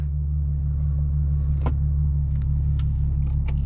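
A 2014 Ford Mustang Premium with a Roush exhaust idles steadily, its deep low rumble loud and even throughout, with a few light clicks and rattles on top.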